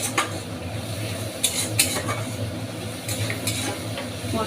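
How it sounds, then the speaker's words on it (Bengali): Spice paste with a bowl of water sautés in a pan for a hilsa head, potato and pointed gourd dish, sizzling steadily close by while a spatula scrapes and clinks against the metal in repeated strokes. "তো এটা এখন ভালোভাবে আমি কষাতে থাকবো।"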